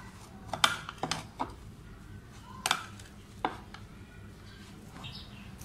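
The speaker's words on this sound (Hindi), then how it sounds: "अब इनको अच्छी तरह मिक्स कर लेना।" Potato snack dough mixed by hand in a bowl: quiet, irregular clacks and scrapes come in small bursts, alone with no talk.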